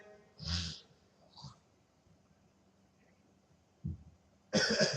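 A man coughs during an Islamic sermon (waz): a hard cough near the start, a lighter cough shortly after, then a faint one and a loud burst of coughing at the end. Quiet hum fills the gaps, and there is no speech.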